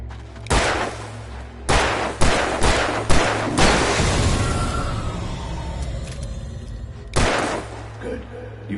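Gunshots from the video game Alan Wake Remastered: about seven loud, sharp blasts fire in an irregular burst, most within the first four seconds with one more after a pause. Each leaves a ringing, reverberant tail over a steady low hum.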